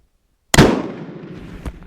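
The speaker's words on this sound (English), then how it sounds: "It's just ever so slight click and a bang." A Martini-Henry rifle fires with a sudden loud bang after silence, its report ringing and decaying, with a second smaller pop near the end.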